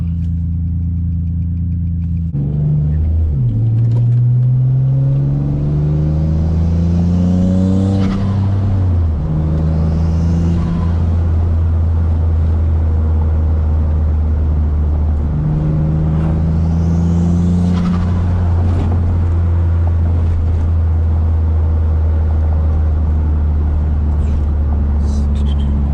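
Single-turbo Nissan G35 after a street tune revs and accelerates hard, a loud, close, sustained engine drone rising and falling through several gear pulls, with turbo whistle and shifts breaking the pitch climbs.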